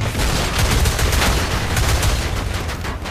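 Dense gunfire in Battlefield Play4Free, a loud continuous rattle of rapid shots and impacts hitting the player, filling the whole moment with no talk.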